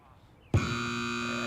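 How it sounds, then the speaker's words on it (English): A loud electronic timing buzzer sounds at a cattle dog trial in an arena, cutting in abruptly after quiet background noise and holding a steady, harsh, sustained tone to the end. "that's a loud buzzer this morning"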